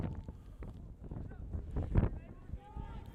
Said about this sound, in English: Windy conditions here at Loyola Blakefield.